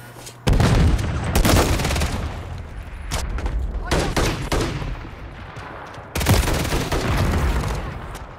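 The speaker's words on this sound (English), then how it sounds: "Hostile cruise missile incoming. Throwing grenades!" Dense Call of Duty gunfire fills the mix with rapid automatic bursts and booming grenade explosions, loud and nearly continuous, while game announcer voices call out objectives over the battle.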